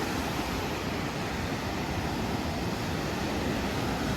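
Surf washing in steadily on Dikwella beach on Sri Lanka's south coast, a continuous broad roar of waves with no clear breaks, fairly loud and close throughout.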